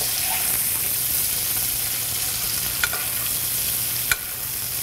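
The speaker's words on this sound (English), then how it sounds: "just gonna baste this steak in a little bit of fresh herb butter" Steak sizzling steadily in a hot pan as it is basted with fresh herb butter, a continuous close frying hiss broken by two sharp spoon clinks near the end.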